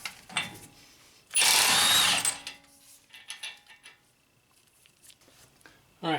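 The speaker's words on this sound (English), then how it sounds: "let's go ahead and pop this axle nut off" Power tool zipping loose the axle nut on a 2006-2011 Honda Civic during a CV axle replacement, a loud whirring burst followed by clinks and handling noises, with another short burst at the end.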